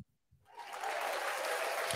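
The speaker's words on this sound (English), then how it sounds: "Why did I clap for that?" A person clapping hands, starting after a brief pause and building into steady, close, continuous applause-like clapping that holds at full loudness to the end.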